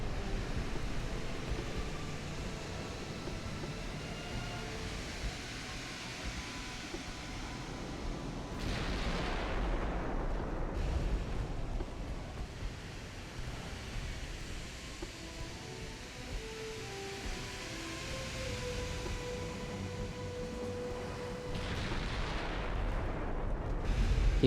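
Naval artillery fire from 1890-era warships in the naming game Ultimate Admiral: Dreadnoughts rumbles as a dense, continuous low boom with scattered heavier blasts and whooshes around the middle, fairly faint and without speech.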